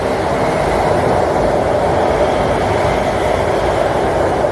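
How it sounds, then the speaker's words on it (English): A Chinese high-speed train roars past close by, a steady loud rushing rumble with rail noise that holds throughout without letting up. "Here comes a train on the other track."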